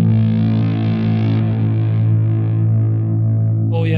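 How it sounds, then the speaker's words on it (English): A sustained guitar amp drone with heavy grit and distortion holds steady and loud, washed in plate reverb and delay, with the upper harmonics thinning partway through. "Plate reverb here."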